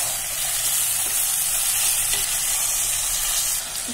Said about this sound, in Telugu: ఇట్లా ఫ్రై బాగా వేసుకోవాలి.